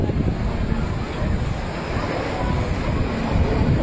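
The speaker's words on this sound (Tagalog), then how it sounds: "Malakas kasi yung hangin." Strong wind on a rooftop during a fire roaring and buffeting the microphone, a continuous loud rumbling gust with no pauses.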